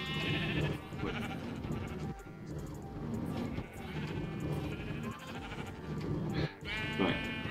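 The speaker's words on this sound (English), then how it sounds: "So he's got three sheep up here at the moment." Sheep on a farm bleat repeatedly over a busy, close background of layered calls, with a few louder bleats standing out toward the end.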